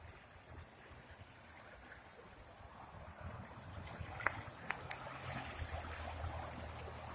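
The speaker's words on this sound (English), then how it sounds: "Here's another stream that I pass." A small stream flows beside a road, a faint steady trickle and babble heard at a distance, with a few brief clicks near the end.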